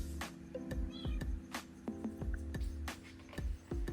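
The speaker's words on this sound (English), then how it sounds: "my cat is meowing in the background" A small kitten meows repeatedly in a home kitchen, fairly near, while a pear tart is being made; sharp knocks and clatter of baking work punctuate the calls, and no one speaks.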